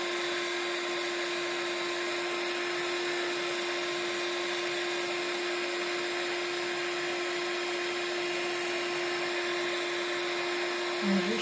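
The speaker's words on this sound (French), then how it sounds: "Et puis j'ai plus qu'à venir faire chauffer avec mon heat gun." A heat gun blows hot air while warming a card craft piece from underneath, a steady close whooshing hiss with a constant fan whine that runs unbroken throughout.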